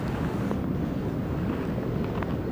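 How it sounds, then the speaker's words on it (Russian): Strong wind buffets the microphone on the Desna riverbank during spring feeder fishing, a steady, loud low roar with gusty rumble throughout and no voices. "Вот и поднялся сильный ветер."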